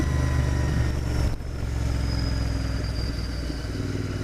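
A Royal Enfield Interceptor 650 twin-cylinder motorcycle engine pulls steadily under acceleration with a loud, continuous throbbing drone, a brief dip like a gear change, then a rising tone as it carries on, heard from the rider's position.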